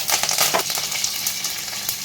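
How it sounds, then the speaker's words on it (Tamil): Mustard seeds spluttering and curry leaves frying in hot groundnut oil, with urad dal in the pan, a steady close crackle and sizzle with rapid popping that is busiest in the first half second. "கடுகு வெடிக்கவும் கருவேப்பிலை சேர்த்துக்கலாம்."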